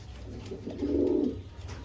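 A Madras pigeon gives one loud, close, drawn-out coo that swells and fades, set against a low steady hum.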